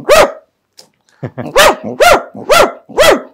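A voice mimics a dog barking: a short yelp, a pause, then a run of five loud, evenly spaced barks delivered close and clear, with no other talk.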